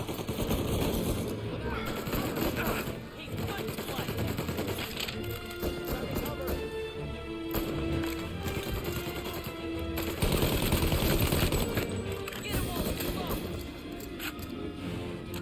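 Tommy gun fires in rapid automatic bursts in the Mafia Definitive Edition video game, with repeated sharp volleys across the stretch under continuous game sound and talk.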